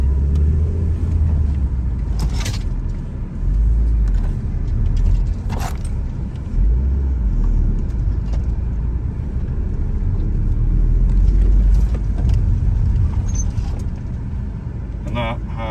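An Audi TT, just having had brake work done, driven in circles on grass: a steady, fairly loud low engine rumble carries throughout, with faint rattles and clicks on top.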